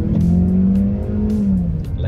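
A naturally aspirated Mazda 3 2.0L engine revs steadily with a rising and falling drone, loud and close, with a brief voice faintly underneath.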